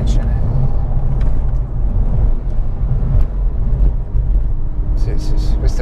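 A Porsche 997 Carrera 4S with a manual gearbox pulls hard out of a tight hairpin, its engine giving a steady deep rumble close by while a person talks over it throughout.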